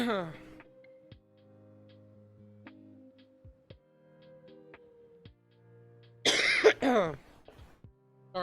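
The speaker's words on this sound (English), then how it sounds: "Sorry, just coughing in the mic." Coughing and throat clearing close into a microphone during a live futures trading stream, a sudden loud burst after long quiet stretches with faint clicks.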